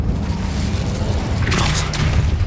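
Incendio fire spell cast in the video game Hogwarts Legacy, a rising magical whoosh and crackle that brightens partway through over a steady low rumble of game ambience.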